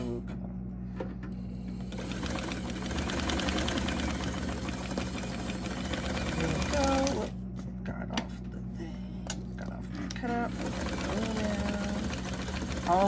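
A sewing machine stitches junk journal envelopes and pockets at a fast, steady run, with a brief pause partway through. It is loud and close, and someone talks quietly over it.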